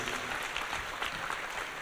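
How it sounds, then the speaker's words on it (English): Congregation in a church service applauding, a dense wash of hand claps filling the room steadily and evenly throughout, with no voices standing out. "Can we give Jesus a big hand clap?"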